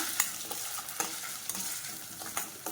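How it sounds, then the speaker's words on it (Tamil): Curry leaves sizzle steadily in oil in a pan while a utensil stirs, producing soft scraping clicks at a loose rhythm, close and moderately quiet. "இது எண்ணெயில் நல்லா வதக்கிக்கணும்"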